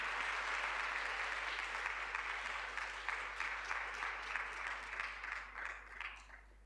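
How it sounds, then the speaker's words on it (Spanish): Applause for a presenter at an HIV counselling course fills the room, many hands clapping steadily before thinning out and fading over the last couple of seconds. "Nuevamente, un fuerte aplauso"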